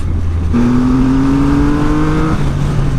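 A 2020 Triumph Rocket 3 2500cc motorcycle engine revs hard while accelerating, its pitch climbing steadily for about two seconds before dropping off, loud and close.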